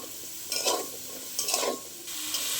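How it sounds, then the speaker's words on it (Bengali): Mixed vegetables, pointed gourd among them, frying together in a pan, with a steady sizzle and a few bursts of scraping as they are stirred, close and fairly loud, no voices. "এই সবজিগুলো সব একসাথে প্রথম ভেজে নেব,"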